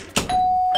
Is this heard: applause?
no